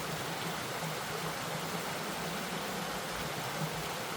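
Water flows through a stream gorge with waterfalls in a steady, soft broadband rush, continuous and even, with a faint low undertone and no talk.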